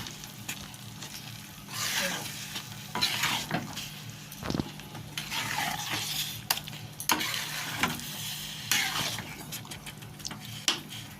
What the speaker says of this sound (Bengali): এবার আমি এটা নাড়াচাড়া করতে থাকবো যাতে তলায় না লেগে যায়